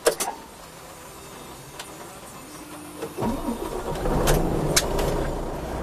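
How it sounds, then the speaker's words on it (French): A truck engine in a Globetrotter cab cranks and starts after a quiet stretch. A sharp click comes first, then a whirring starter at about three seconds, and the engine rises into a steady, rumbling idle with a couple of brief higher clatters. "Donc le démarrage du moteur."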